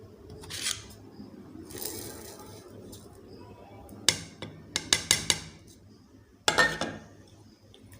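Chicken tikka boti marinade with yogurt and spices is mixed in a bowl: soft squelchy stirring, then a quick run of bright spoon clinks and taps against the bowl, close and moderately loud.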